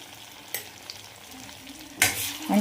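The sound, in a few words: spice paste frying in butter and oil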